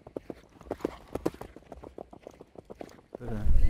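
Hooves clip-clop in a quick, uneven rhythm as a large pack of horses passes during a 160 km endurance ride in Castelsagrat, close and clear, ending in a louder wash of movement and background noise.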